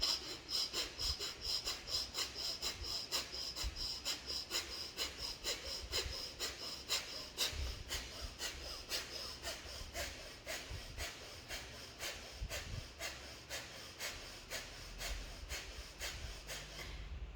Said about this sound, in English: It is going to be your stomach breathing, not chest.